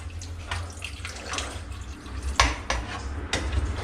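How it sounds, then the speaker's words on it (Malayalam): Water poured into a pot of Kerala-style country chicken curry, a splashing pour with a few sharp clanks of the metal pot and utensils, close and moderately loud. "ചിക്കനെല്ലാം മുങ്ങി കിടക്കത്തക്ക രീതിയിൽ വെള്ളം ഒഴിച്ചിട്ടുണ്ട്"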